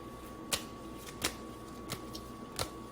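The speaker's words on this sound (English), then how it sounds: "I am now shuffling the Romance Angels deck, just laying out a few oracle cards" A Romance Angels oracle card deck being shuffled close up, with soft riffling and four distinct snapping taps spaced evenly apart over a quiet background hum.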